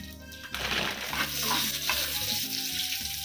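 Cashews hit hot ghee in a home kitchen pan and break into a loud, steady sizzle that continues under a faint background melody.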